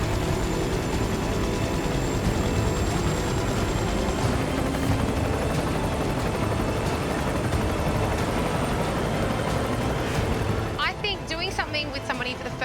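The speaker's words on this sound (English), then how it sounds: "this helicopter." A helicopter flies with its doors removed, a loud, unbroken thudding rotor and engine roar filling the whole stretch, with voices briefly audible near the end.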